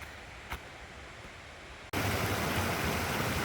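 A stream runs with noticeably more water than usual, its steady broadband rush filling the scene loud and close after a quieter opening moment of faint ambience.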